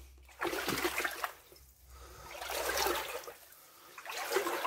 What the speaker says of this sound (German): da läuft irgendwo Wasser rein